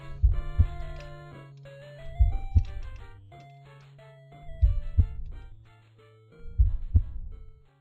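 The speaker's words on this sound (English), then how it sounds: "And it's a pretty strong heartbeat." Heartbeat sound effect from the webcomic Homestuck, four strong lub-dub double thumps evenly spaced over a low sustained hum and soft melodic synth tones, with no voices.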